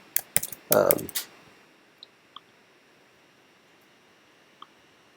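Computer keyboard keys tapped during logo drawing work, a short burst of several close, sharp clicks at the start followed by a few faint isolated taps in quiet.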